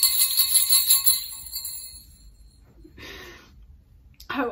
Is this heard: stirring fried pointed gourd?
no